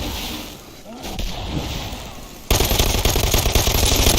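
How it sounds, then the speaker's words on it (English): Vampiric SMG fire in Dead Island 2 bursts in suddenly after a quieter ambient stretch, a dense, loud rapid automatic rattle that carries on steadily to the end. "This is where the vampiric SMG really comes in handy."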